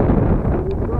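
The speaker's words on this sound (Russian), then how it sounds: "Дождь прошел, зато ветер не прошел. А наоборот поднимается." Strong wind buffets a fishing boat at sea off Norway in a loud, continuous low rumble, with the roar hitting the microphone. A voice speaks under the noise.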